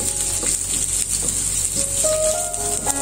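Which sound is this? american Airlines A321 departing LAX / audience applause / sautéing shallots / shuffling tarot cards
sautéing shallots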